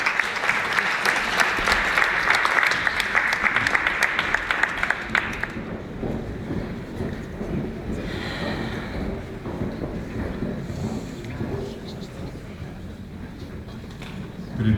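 Audience applause for a vocal group at a Bulgarian radio concert evening, a loud, dense wash of clapping for about five seconds that then fades into quieter room noise and light murmur.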